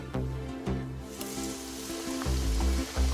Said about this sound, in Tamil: இந்த முறுக்கை இந்த எண்ணெயில நான் போட போகிறேன்